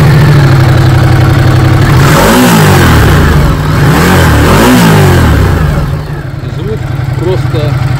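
A 2019 Ducati Diavel motorcycle engine fires up loud and close, then revs in several rising-and-falling sweeps over a steady idle, with brief talk nearby.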